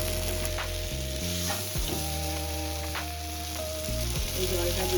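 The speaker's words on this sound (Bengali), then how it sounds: "দেখুন একটু নাড়াচাড়া করে আমার মশলা কষানো হয়ে গেছে" Spice paste for a Bengali shingi fish curry sizzles steadily in a hot pan while being stirred, with close, continuous frying hiss broken by brief scraping strokes of the spoon.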